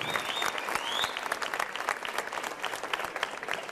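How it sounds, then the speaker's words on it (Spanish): A crowd in Guatemala at an event launching free WiFi gives loud, sustained applause, dense and close, with a few whistles cutting through the clapping at the start. "Fuerte el aplauso para nuestra bella Guatemala."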